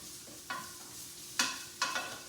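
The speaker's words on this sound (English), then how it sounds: "so we've got our onion. It's going to start softening and cooking." Chopped onion softening in a hot pan for chicken lettuce wraps, a low steady sizzle with three distinct scraping stirs of a utensil against the pan; no voices.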